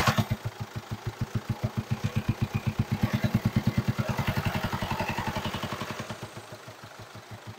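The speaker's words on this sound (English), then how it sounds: "Rev it up." A Mercedes Sprinter van engine with its intake pipe removed revs, throbbing in a fast, steady pulse that stays loud at first and then slowly eases off, with no voices.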